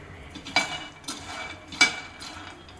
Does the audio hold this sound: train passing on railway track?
no